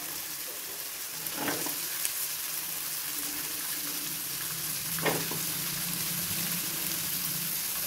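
Capsicum sautéing in a pan for a restaurant-style egg fry masala. A steady, moderate sizzle hisses throughout, with a couple of brief soft stirring scrapes and no talk.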